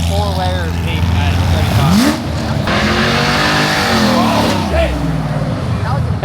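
Car spinning its tires at a late-night car meet: an engine revs hard and rises in pitch while tires squeal and smoke in long screeching bursts, loud and nearby, with people talking and shouting over it.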